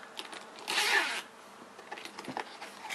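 The zipper on a front pocket of a leather men's briefcase is pulled in one quick, close, soft rasp, followed by faint handling noises.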